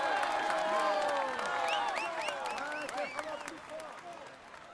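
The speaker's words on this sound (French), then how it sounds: "Allez, on l'applaudit encore." A large crowd applauds and cheers at a Tour de France podium ceremony, dense clapping with shrill whistles and whoops, loud at first and easing off toward the end, under a voice on a loudspeaker.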